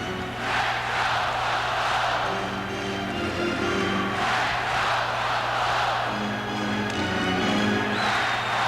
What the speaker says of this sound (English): this last 5 minutes has lit the crowd up